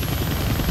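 A nearby helicopter in the video game Deadpool throbs with loud, continuous rotor chop beneath a steady engine whine.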